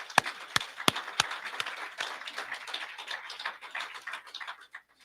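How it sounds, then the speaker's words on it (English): Applause for a group at a Maryland House of Delegates candidate forum begins with a few sharp, separate claps, then settles into a softer, scattered round of clapping that fades near the end. "A round of applause for the group tonight."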